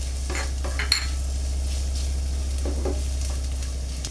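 Ginger, garlic and green chillies fry in a pan for a Bengali-style bhindi chicken keema, giving a steady close sizzle with a few light clinks of a utensil against the pan.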